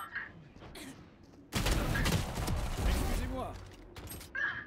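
Gunfire in the tactical shooter game Valorant, a dense burst of rapid automatic shots that erupts suddenly and continues for several seconds, loud and close, with a voice briefly underneath.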